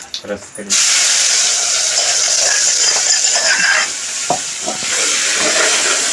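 Crushed onion hits hot oil with asafoetida for an onion curry, bursting into a loud, sustained close sizzle after a moment of talk, with occasional utensil taps under the hiss.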